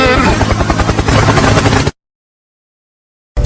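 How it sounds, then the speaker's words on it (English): A cartoon helicopter sound effect whirs loud and dense for about two seconds, cuts abruptly to silence, then briefly returns at the very end. "Helicopter, helicopter."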